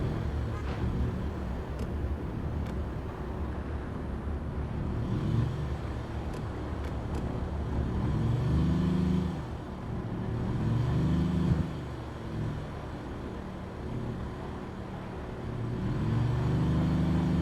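An RV engine in the co-op game RV There Yet drives along, a steady low motor rumble that swells and dips as it revs, with no talk over it.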